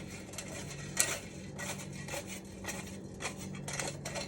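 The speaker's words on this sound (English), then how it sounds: "We're just gonna push them through the sieve with our spatula." Mashed banana pieces are scraped and pressed through a sieve with a spatula, giving soft close rubbing and rasping strokes in uneven bursts, quiet and without speech.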